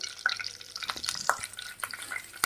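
Curry leaves sizzling in hot oil in a pan while cooking crab curry, a steady crackling fry with brief sharp pops and stirring scrapes, close and moderately loud with no talk.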